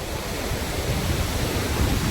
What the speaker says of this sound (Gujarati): બાટવા ડેમના બધા દરવાજા ખોલી નાખ્યા. આ તો જુઓ ભયંકર પાણી આવે છે.